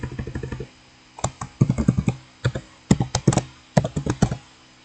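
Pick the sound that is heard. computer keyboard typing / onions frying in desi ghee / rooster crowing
computer keyboard typing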